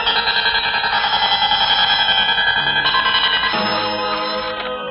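Loud electronic telephone bell ringing continuously, a rapid trilling warble repeating steadily throughout, close and unaccompanied by voices.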